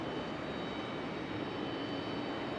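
A CRJ regional jet passes by at Raleigh-Durham International Airport, its steady broadband engine roar holding loud and constant throughout with no voices over it.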